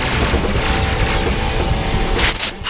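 Spaceship weapons fire and explosions in the space combat game Rebel Galaxy make a dense, loud, continuous booming roar, with a sharper burst near the end.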